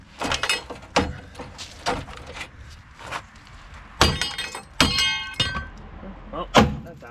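Hammer blows ring out against a metal car part during repair work, a handful of sharp, irregular metallic strikes spread across several seconds, some with a bright ringing tail, close up with workshop background noise.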